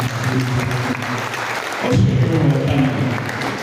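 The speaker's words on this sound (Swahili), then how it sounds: "Mpigieni Bwana Yesu makofi." A church congregation of about a hundred people claps for Jesus in a sustained, dense wash of applause that swells midway, with voices mixed in.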